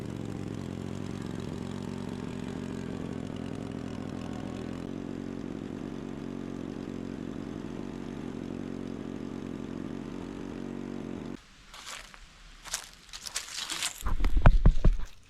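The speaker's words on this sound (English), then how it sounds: "Case skid loader, go! ASMR for the eyeballs of this thing pushing dirt into a hole." A light Case skid loader runs with a steady, fairly loud engine drone while pushing dirt into a hole for a downspout drain; after about eleven seconds the drone gives way to rougher, uneven bursts of machine noise.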